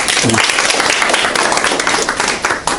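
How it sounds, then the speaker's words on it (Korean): Audience applause welcoming a guest lecturer at a seminar talk, a dense, steady wash of many hands clapping for about three seconds, loud and continuous without talk over it. "박수로 환영해 주시기 바랍니다."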